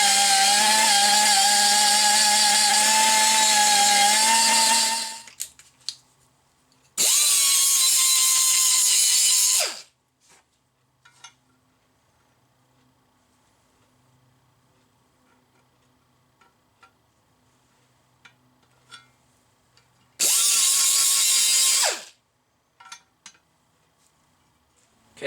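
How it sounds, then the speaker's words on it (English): Rotary burr grinding the edges of an action pocket in a gunstock, three loud high whining bursts separated by quiet stretches with small ticks and handling clicks. "I'm going to take the burr, I'm going to grind a little off this edge and this edge"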